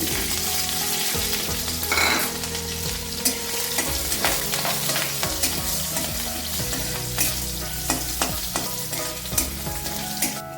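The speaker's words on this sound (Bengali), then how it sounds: "শুকনো লঙ্কা দুটো একটু লাল লাল করে ভেজে নেব এবার দেবো একটু কালো জিরে আর কাঁচা লঙ্কা" Dried red chillies, black cumin seeds and green chillies frying in hot oil, a dense crackling sizzle with frequent sharp pops and stirring scrapes, loud and close for the whole stretch.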